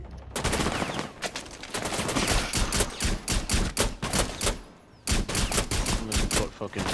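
Rapid, loud gunfire in a first-person shooter video game, dense bursts and overlapping automatic shots crackling almost continuously with brief gaps, with a voice talking faintly underneath.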